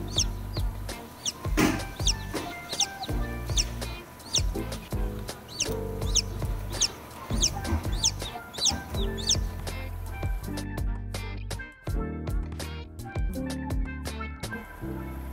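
Newly hatched chicks in a homemade egg incubator peep with rapid, high, repeated chirps over a steady background hum, the calls fairly close and continuous throughout.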